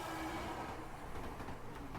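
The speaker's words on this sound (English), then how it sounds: "Oh god, that's a train!" A train rumbles past in the video game Fatal Twelve, a steady low mechanical roar with faint clatter lasting about two seconds, no voices.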